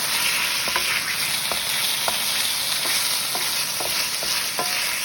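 Crayfish frying in a pan for crayfish pasta while being stirred, a steady close sizzle with intermittent light scrapes and clicks of the utensil against the pan throughout.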